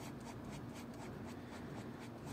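Pencil sketching a Volkswagen Beetle outline on paper, a steady close scratchy rubbing stroke running continuously and quietly with no voice over it.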